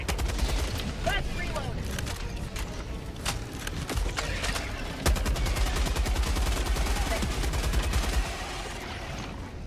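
Heavy machine gun fire in Helldivers 2 roars in long sustained bursts over explosions and battle noise, loud and close, heaviest in the second half.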